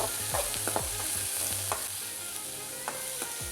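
Onions sautéing in oil with fennel and cumin, a steady fine sizzle broken by several sharp spoon-against-pan stirring clacks, close and fairly loud, with no talking.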